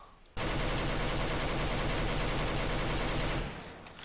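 An AK rifle in Counter-Strike: Global Offensive fires one sustained full-auto burst of rapid, evenly spaced shots. The burst is loud and close, then stops abruptly.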